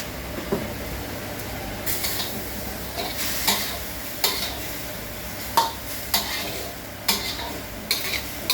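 Pork chili paste is dry-roasted and stirred in a hot pan, a utensil scraping and knocking against the metal in sharp intermittent strokes over a soft steady sizzle, with no talking.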